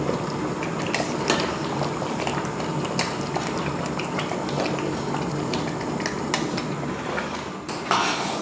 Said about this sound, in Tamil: கொதிக்க ஆரம்பிச்சிருச்சு